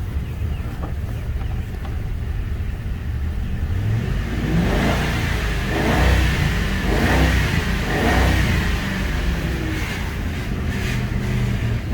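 A 2011 Ford Crown Victoria, an ex-police car, idles rough and loud with a steady close engine drone, then revs in several rising surges before settling back.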